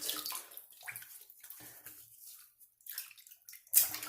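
Water splashes and trickles in short bursts as an Edwin Jagger DE89 safety razor fitted with a BIC Chrome Platinum blade is rinsed under a tap between shaving passes, close and fairly quiet, ending in a sharper splash.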